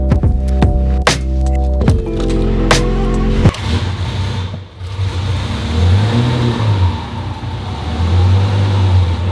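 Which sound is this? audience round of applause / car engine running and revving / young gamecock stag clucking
car engine running and revving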